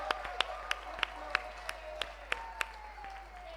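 Sparse, distinct handclaps from a small group at a memorial programme dinner gathering, roughly a dozen sharp claps spaced irregularly over a low background hum, with faint voices underneath.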